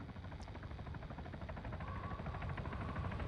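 A helicopter's steady rotor thump in the video game ARMA 3 drones faintly in the background throughout, with no voices.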